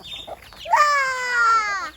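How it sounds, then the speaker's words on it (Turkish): Chickens crowd around on a home farm as they are hand-fed homegrown crops, giving a short, clear squawking cackle that rises sharply and holds for over a second near the listener, after a brief quiet moment with faint murmurs. "Bakın tavuklar geldi bile etrafımıza"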